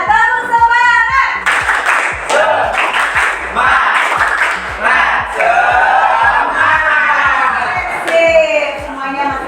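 A classroom of pupils doing a group spirit clap chant, rhythmic claps in quick patterned bursts mixed with shouted children's voices, loud and close, with a teacher's voice speaking over parts of it.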